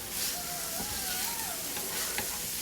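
Ingredients cook down in a pan for a vegetarian rasta pasta with lentils, giving a steady, close frying sizzle throughout, broken by a few faint scrapes of stirring.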